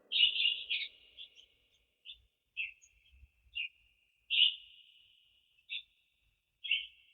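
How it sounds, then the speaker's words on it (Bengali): Parrots kept in a home in Dubai give a series of sharp, high chirps and short calls in irregular bursts, close by and fairly clear against an otherwise quiet room. "এই যে আরেকটা টিয়া পাখি।"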